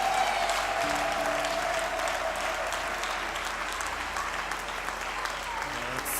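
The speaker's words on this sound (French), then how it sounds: "Applaudissons pour le Seigneur." Congregation clapping during a Catholic Mass in church, steady sustained applause from many hands filling the space, with a voice speaking briefly over it at the start.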